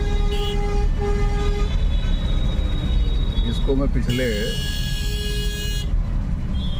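Heavy traffic jam on a city street, with car and vehicle horns honking repeatedly over a dense, steady road rumble while someone talks through it.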